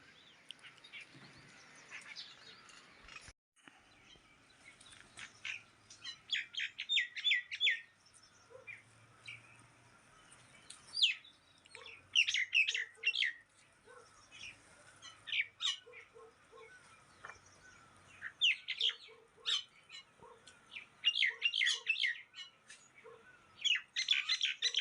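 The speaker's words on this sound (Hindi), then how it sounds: "तो मित्रों आज बहुत चिड़िया हैं बगीचे में आई है मेरे।" Many small birds chirp and squawk in a home garden in a village, with scattered bright calls in bursts that come and go at a moderate distance and no talking.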